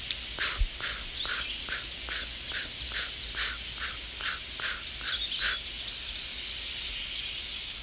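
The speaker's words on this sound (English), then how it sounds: "He saw parrots." Parrots call in a jungle setting beside a cenote, a run of about a dozen sharp, evenly spaced squawks that carry clearly, then stop, leaving a faint ambient hiss.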